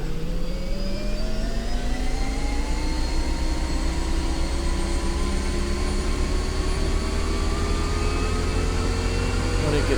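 A simulated Bell 429 helicopter in the X-Plane flight simulator has its number one turbine engine starting up. A loud, steady whine climbs gradually in pitch throughout as the engine spools up, over a constant low rumble.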